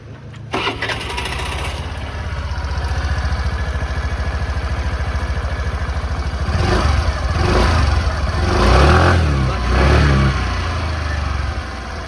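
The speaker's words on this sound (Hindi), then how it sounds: "तो आपने एग्जॉस्ट साउंड सुना है" A Suzuki Access 125 scooter engine idles with a steady low exhaust putter, then revs up several times in rising bursts before settling back, close and loud.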